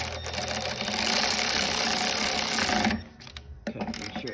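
Ratchet wrench clicking steadily while tightening the mower deck belt on a Cub Cadet XT1 42-inch riding mower, a dense run of close mechanical clicks that stops abruptly, followed by a few scattered knocks.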